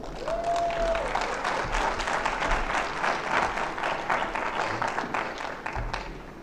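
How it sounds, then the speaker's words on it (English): An audience at a national exhibition award ceremony applauds in a continuous, moderately loud wash of clapping that holds steady for the whole stretch, with no talk over it. "Another round of applause, please,"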